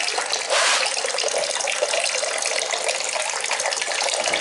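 Water from an inlet pump pours into a tank that is filling, a steady close rushing and splashing flow with no pauses and no talking.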